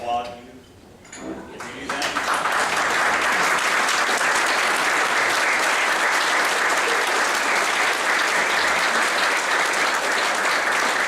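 A banquet audience at a university spring reunion applauds its staff and faculty, with sustained loud clapping from a large crowd that builds after a brief spoken moment at the start.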